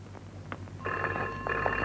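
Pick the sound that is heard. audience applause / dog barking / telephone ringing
telephone ringing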